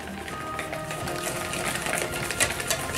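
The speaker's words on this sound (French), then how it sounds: "je donne un petit coup de fouet électrique. Quand même, pas de fouet, de batteur électrique. Donc je vais l'utiliser." Electric hand mixer beating chocolate fondant batter in a home kitchen, a steady close whirring hum with rattling, clicking mechanical texture running continuously throughout.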